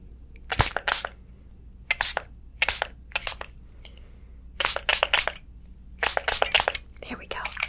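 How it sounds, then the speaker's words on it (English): Several short, hissing bursts from a spray bottle at a barber shop during a beard shave come in quick clusters with brief pauses between them, close and fairly soft. "So I'm gonna spray you again."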